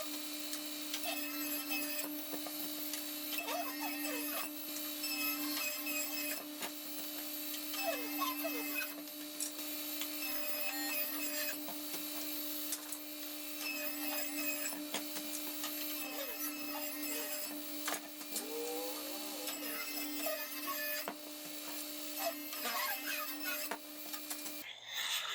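A saw rips pallet wood boards into strips, a steady droning hum with ongoing rasping cut noise, sustained and fairly distant-sounding, with no talk.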